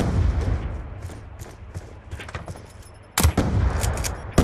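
Gunfire in the shooter game Black Ops 2 rings out after a quieter, murmuring stretch: a few sharp, loud shots crack in quick succession near the end.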